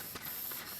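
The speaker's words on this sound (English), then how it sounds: "just rub metal on stone is what you do" A spokeshave blade rasps across a sharpening stone in two or three short, gritty strokes, each a soft hissing scrape of metal on stone, quiet and close.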